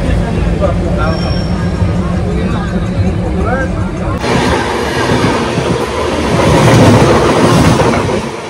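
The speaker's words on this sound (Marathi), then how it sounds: "आता ट्रेन निघली आहे नागपूरवरनं." A passenger train pulls out of Nagpur, heard from inside the carriage: a loud, continuous rumble with rhythmic clickety-clack of wheels on the rails and a brief squeal, under a steady babble of passengers talking.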